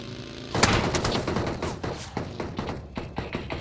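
Video game shootout: a burst of heavy gunfire breaks out, rapid overlapping shots and thuds continuing in irregular volleys, close and loud.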